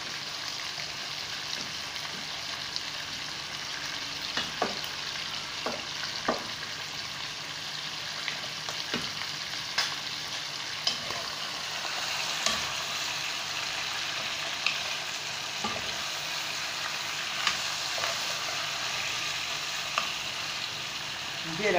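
Chicken frying in olive oil for a spaghetti sauce, a steady close sizzle throughout with occasional light utensil clicks and stirring scrapes.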